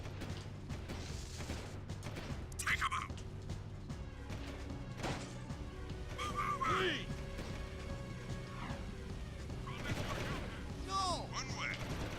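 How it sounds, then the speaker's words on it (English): In the video game Jak 2, a vehicle-mounted gun fires in scattered bursts amid clanking game effects and a steady low hum, with people talking over the action. "their vehicle does have a gun, doesn't it?"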